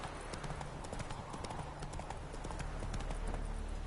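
Horse hooves clip-clop in a steady, fast galloping rhythm on a ridden horse in The Witcher video game, moderately near and continuous, with faint background ambience.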